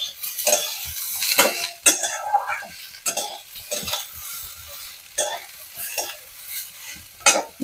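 Winter vegetables stir-fried in a pan, with repeated scraping and clattering strokes of a utensil against the pan over a soft background sizzle, in irregular bursts with no voices.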